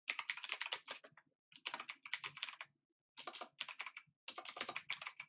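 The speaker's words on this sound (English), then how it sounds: "if I can type" Rapid typing on a computer keyboard in four bursts separated by short pauses, close and clear, with no talking over it.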